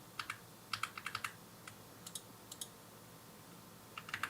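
Light clicking keystrokes on a new, inexpensive wireless computer keyboard come in short bursts with pauses, close and quiet in an otherwise still room.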